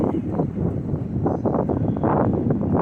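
Steady gusty wind by the sea at Coney Island rumbling and buffeting close against the microphone, loud and continuous with a low roar and no clear voices.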